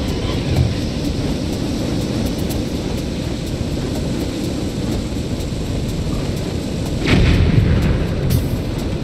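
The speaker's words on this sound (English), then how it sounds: "I hit the bomb, but good thing it takes like an hour for it to actually blow up." A bomb blows up in The Legend of Zelda: Skyward Sword at Eldin Volcano, a single deep booming burst near the end that rises over a steady low rumbling game ambience, with no one talking.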